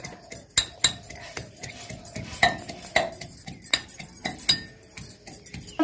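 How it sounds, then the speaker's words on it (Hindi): Garlic pounded coarsely with a pestle in a mortar, giving a series of sharp, irregular clinking knocks at close range, with no talk. "सब देख रहे हैं लहसुन को दरबरे खलबट्टे में हमने कूट लेंगे पहले"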